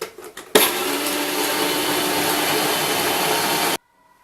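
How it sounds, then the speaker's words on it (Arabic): A food processor grinds roasted red peppers with a loud, steady whirring roar that starts abruptly after a few soft clicks, runs evenly for about three seconds, then cuts off sharply into silence. "نغلق الروبو ديالها ونبدا نرحيه"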